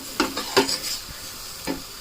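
Masala for black beans fries in oil and gets stirred, giving a soft steady sizzle punctuated by a few sharp scraping strokes of a spoon against the pan, close up and without speech.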